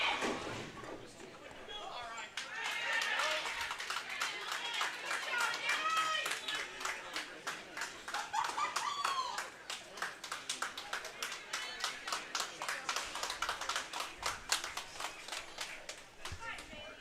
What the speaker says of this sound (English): Got the golf clap going on here.